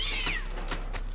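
A cat meows once in the horror video game Sophie's Curse, a short rising-then-falling cry over a steady low game ambience.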